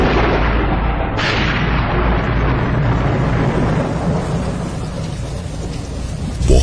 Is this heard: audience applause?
no